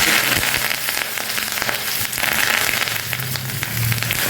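Curry leaves sizzle and crackle in hot oil with asafoetida while tempering for a function-style cucumber chutney, a steady dense frying hiss with sharp pops throughout, close and fairly loud, no talking.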